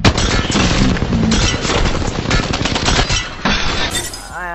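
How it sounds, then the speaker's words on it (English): Sustained automatic gunfire in Apex Legends aimed at a training dummy, loud and continuous with heavy rattling bursts that stop abruptly near the end. "now shoot the dummy"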